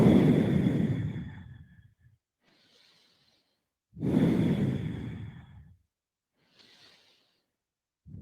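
Slow, deep breaths during a grounding meditation: two long, close, airy exhales, each followed by a soft, faint inhale, with quiet pauses between them.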